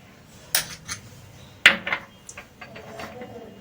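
Ground black and white mustard paste is spooned into a bowl, giving a few sharp metallic clinks and taps of spoon against the bowl, spaced irregularly over a quiet kitchen background.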